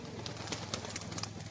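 A male racing pigeon coos softly and repeatedly, low and faint against a steady background hum, with no one speaking.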